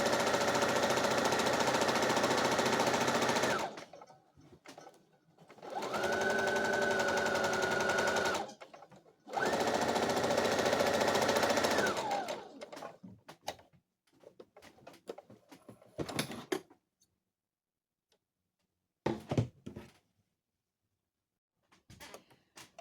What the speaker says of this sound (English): I'm going to zigzag on my sewing machine over the seams to kind of keep it from fraying